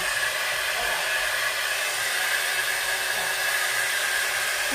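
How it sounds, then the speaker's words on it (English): A Conair Primrose 3-in-1 styler running as a hair dryer, a close, steady, loud rushing blow of air with a constant motor whine and no change in pitch throughout. "I can definitely use this as my dryer."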